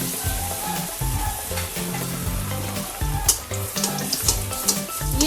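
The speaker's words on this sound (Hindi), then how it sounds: "आप देख सकते हैं जब हमारा तेल भी गर्म हो चुका है। अब हम इसे तेल में डालेंगे।" Batter-coated bread slices for bread pakora frying in hot oil, a steady close crackling sizzle with bubbling and occasional clinks of a utensil, no voices.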